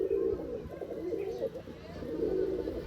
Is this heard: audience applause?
no